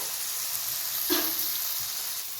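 A pan fries ingredients for vermicelli upma with lemon juice added, making a steady, even hiss with a brief clearer tone in the middle.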